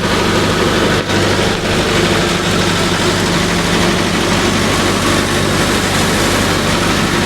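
A tractor drives a rotavator, its heavy engine droning loud and steady with a low, even rumble that runs unbroken throughout, close by and with no voices.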